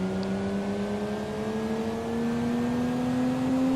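A race car in Gran Turismo 3 fitted with a racing exhaust revs steadily upward, a loud continuous engine drone rising slowly in pitch with no speech.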